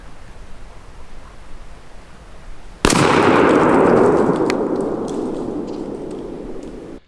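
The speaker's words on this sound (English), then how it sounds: "that's our 4th shot of TSS" A single loud blast from a Stevens 301 20 gauge shotgun firing an Apex TSS shell during a 40-yard pattern test, after a quiet outdoor lead-in, with a long rolling echo that fades slowly afterward.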